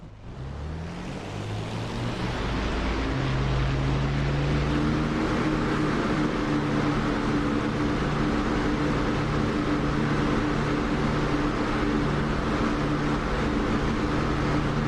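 A warplane engine in a combat flight game roars steadily through takeoff, loud and continuous, its droning tone climbing in pitch during the first couple of seconds and then holding as the throttle stays open.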